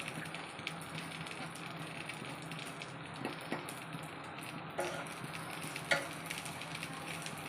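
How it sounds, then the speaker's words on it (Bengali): Pumpkin frying in a pan, a steady close sizzle with occasional scrapes and clinks of a utensil stirring against the pan. "দেখেন আমার কুমড়াটি বাজা হয়ে গেছে গা"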